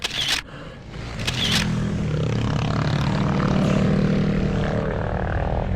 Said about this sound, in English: motorcycles just scream up here and across the roads and everything else